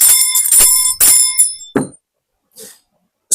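A bell rings three times in quick succession, bright and loud with long ringing overtones, followed by a couple of softer knocks and short sounds.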